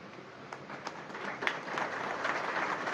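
Sparse applause from an audience in a large hall at a political party rally rises and thickens toward the end, with a few louder individual claps standing out early on.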